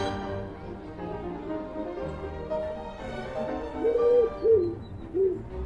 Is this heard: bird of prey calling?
yes